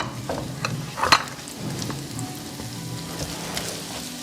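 Onion and garlic fry in hot oil for Uyghur fried rice, giving a steady close sizzle with stirring scrapes and a brief louder clatter of utensils partway through.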